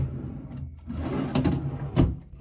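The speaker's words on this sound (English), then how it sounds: "This is a functional drawer." A dresser drawer in a hotel king room is handled, giving a short run of wooden sliding and knocking sounds, a close rattle followed by a sharper bump near the end, with no talking.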